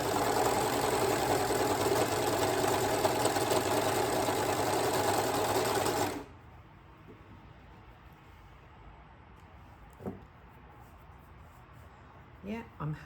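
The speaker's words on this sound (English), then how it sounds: "So now I'm going to trim this off on the overlocker to check that all my tension is good." An overlocker serger trimming a fabric edge runs with a loud, steady mechanical whirr and rapid stitching chatter for about six seconds, then stops, leaving quiet room tone with a few faint handling clicks.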